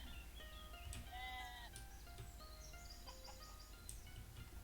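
Several sheep bleat in the video game Equilinox in wavering, nasal calls over a constant ambient hum, with occasional bird-like chirps scattered throughout.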